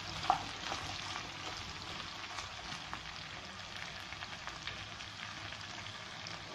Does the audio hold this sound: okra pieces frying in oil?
yes